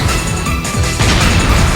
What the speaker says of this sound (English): That's why Explosion's so good, it hits so fast.